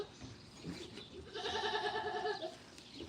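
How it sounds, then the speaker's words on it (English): A goat gives a single wavering bleat of about a second, close and clear over quiet farmyard background noise. "Pretty goat."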